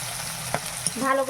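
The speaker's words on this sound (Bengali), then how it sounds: "পেঁয়াজগুলো ভেজে নেবো ভালো করে।" Chopped onions sizzle briefly in hot oil in a wok, with a short stirring scrape near the end; no one speaks.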